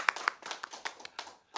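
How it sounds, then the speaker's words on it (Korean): A handful of people clap in scattered, uneven bursts at a National Assembly policy forum urging a maritime court in Busan; about eight distinct claps sound fairly close, with no steady ovation building. "뜨거운 박수 부탁드리겠습니다"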